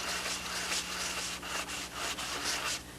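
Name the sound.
block sanding the edge of a mold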